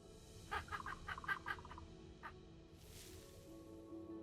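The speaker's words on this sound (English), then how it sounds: "Yes, that is a bird." Bird calls in the video game Spirit of the North 2: a run of short, bright chirps in quick succession, then one more isolated call after a pause, fairly clear over a low ambient game background.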